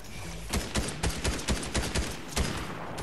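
Rapid gunfire in a multiplayer shooter video game: a string of evenly spaced sharp shots, fairly loud and punchy over a dense background of game ambience, with no talking.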